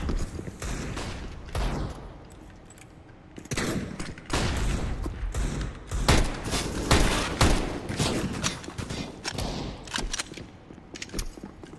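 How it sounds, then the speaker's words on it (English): A flashbang grenade goes off in a first-person shooter video game amid loud overlapping gunfire bursts and booming blasts, dense and chaotic throughout, with faint voices. "Flashbang."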